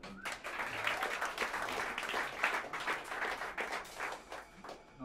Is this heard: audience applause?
yes